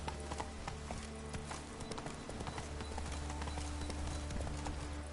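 Horse hooves clip-clopping as the animal sets off, a steady rhythm of quick hoof strikes over a low continuous rumble, fairly close and running throughout without talk.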